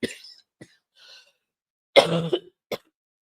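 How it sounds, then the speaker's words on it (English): A few short coughs, close and fairly quiet, with a throat-clearing burst partway through and silent pauses between. "I got a cough."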